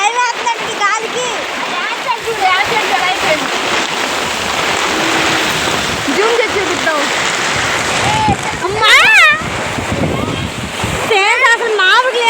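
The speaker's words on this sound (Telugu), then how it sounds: "అసలు మామూలు లేదు వర్షం." Heavy storm rain pours in a dense continuous roar and wash at a house, with gusting wind, close and loud throughout, while several people talk and exclaim over it.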